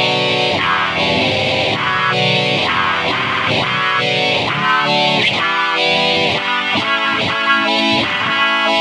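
Heavily processed electric guitar through a Boss GX-100 multi-effects processor plays a rhythmic riff of choppy, distorted chords with layered effects, loud and continuous.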